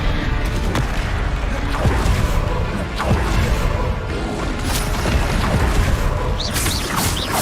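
Expelliarmus spell cast in the Hogwarts Legacy video game, a loud, dense clash of magical whooshes, crashes and booming impacts that runs continuously with no quiet gaps.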